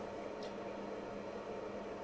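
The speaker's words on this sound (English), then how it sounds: "I don't know if you can hear that in the background, but that is the fan." Cooling fan of a Pandora 5s retro arcade console running after boot-up, a steady broadband whir with a faint hum, continuous and even throughout with no talk over it.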